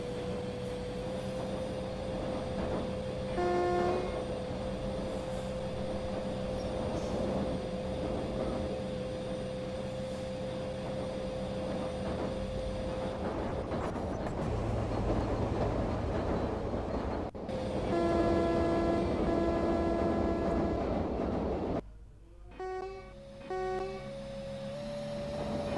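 Steady rumble of the Karnataka Express from Bangalore to New Delhi heard from on board, a continuous wheel and carriage drone with brief horn-like tones partway through and a sudden drop near the end.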